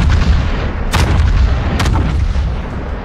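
Two heavy naval cannon blasts from the video game World of Warships, about a second apart, boom over a constant low rumble of engine noise, with no voices.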